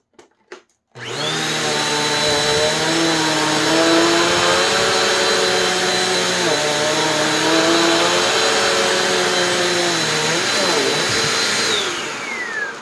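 A Bissell Powerforce Compact vacuum cleaner runs in a baking soda cleaning test, a loud, close, steady motor whine with a bright high tone that holds for about eleven seconds before winding down.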